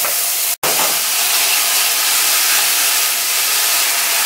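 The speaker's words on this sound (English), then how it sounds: "all I'm going to be doing here, I'm just going to go ahead and add my steak in." A steak hits hot cooking oil in a pan over medium heat after a brief silent gap, sending up a loud, steady, broadband sizzle that holds evenly throughout with no talking.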